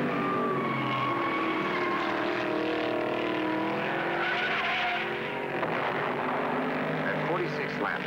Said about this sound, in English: A spin out, but the leaders roar on.